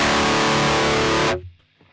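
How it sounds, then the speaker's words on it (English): A direct guitar amplifier signal sent through a Torpedo loader with no cabinet impulse response: harsh, fizzy distorted tone ringing loudly for over a second, then cutting off abruptly into near silence. "So this is the sound of only the amplifier"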